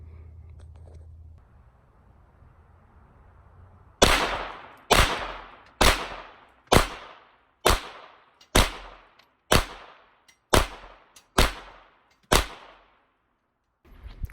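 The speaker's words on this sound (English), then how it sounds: "Try to shoot a little bit slower so they group up better" Ten sharp, loud gunshots from a firearm at a shooting range ring out at a slow, steady pace, about one per second, following a few seconds of quiet low rumble.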